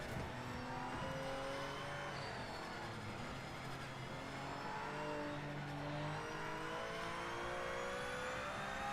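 A race car engine in the Project Motor Racing game revs continuously through a lap, a steady close harmonic whine with pitch climbing and dropping through gearshifts and engine braking, no talk.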